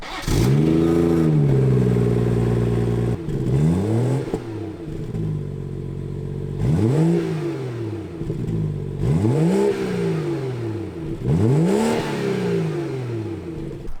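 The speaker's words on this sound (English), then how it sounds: "quick sound clips as far as the stock exhaust on the 340i" A BMW 340i with B58 engine revs hard several times through its stock exhaust, each rise followed by a drop back to idle, loud, close and steady throughout.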